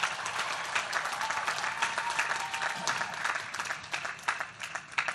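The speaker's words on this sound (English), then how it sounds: "Let's give them a big round of applause as well." Sustained audience applause fills a commencement ceremony at Howard University, a dense steady roar of many hands clapping throughout, with faint cheering mixed in.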